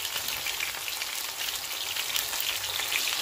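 Chicken pakoras frying in hot oil until golden brown, giving a steady, dense, crackling sizzle throughout, moderately loud and with no talking.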